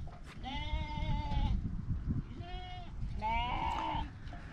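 Several sheep bleat close by in three wavering calls, over a low rumble of outdoor noise.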